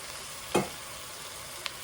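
Potatoes tipped into a pot for ham and potato soup, landing with a single brief thump and clatter, then a small tap later, against a quiet sizzling background.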